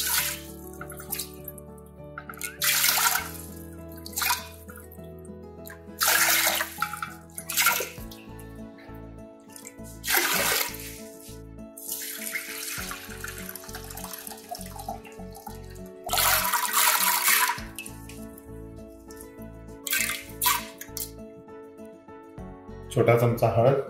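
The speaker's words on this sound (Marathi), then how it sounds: "जेवढी डाळ असेल तेवढं 5 पट पाणी टाकायचं" Water is poured onto soaked lentils in a kitchen while making puran for puran poli, coming in uneven splashing gushes with a person talking between and over the pours.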